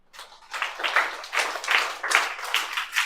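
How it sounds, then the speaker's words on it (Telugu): A class of students at an academy claps for a classmate, a burst of scattered hand claps that swells and holds steady in uneven waves for a few seconds. "big claps to her"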